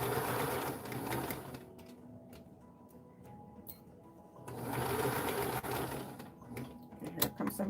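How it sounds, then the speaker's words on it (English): A sewing machine runs in two loud bursts of steady stitching, needle passing over pins while padding a dress form cover, with a quieter mechanical pause between runs and a few sharp clicks near the end. "I just sewed over pins"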